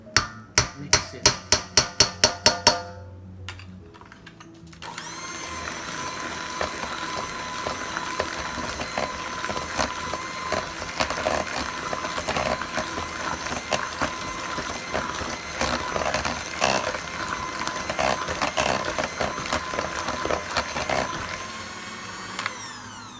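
Jamaican Christmas cake batter is beaten in a mixer: a few rhythmic knocks open, then a steady, loud motor whir runs with clattering taps throughout.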